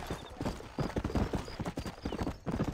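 Rhythmic clip-clop of a horse's hooves during a ride in the Western video game Red Dead Redemption, steady and fairly close, with a brief whinny and no talk over it.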